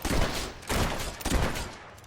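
Rapid gunfire from a Fable 3 fight in a cell area, with three dense bursts of shots, each swelling and fading over about two seconds, fairly loud and close with no talk.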